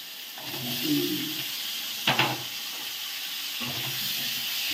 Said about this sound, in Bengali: এইবার আলুটাকে ভেজে নেব। আলুটা কড়াই দিলাম